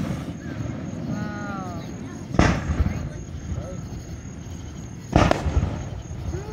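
Two loud booming bursts from Fourth of July fireworks over Lake Secession in 2024, spaced a few seconds apart against outdoor night ambience with insects and distant crowd voices; a faint whistle rises before one burst.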